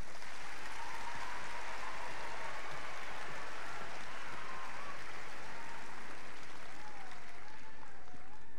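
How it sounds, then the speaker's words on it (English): Sustained applause from a graduation ceremony crowd, a dense even patter of many hands clapping at moderate volume for several seconds, with faint crowd murmur beneath. "Please give applause for these students who have advanced to the next level."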